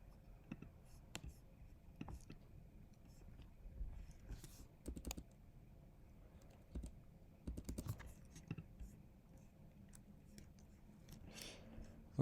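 Quiet typing on a computer keyboard while entering an email, scattered soft key clicks in short irregular bursts, close and faint.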